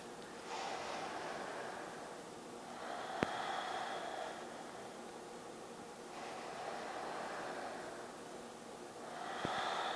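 Slow, steady yoga breathing, with long airy inhales and exhales rising and falling in about two full cycles. Close and fairly soft, with no speech.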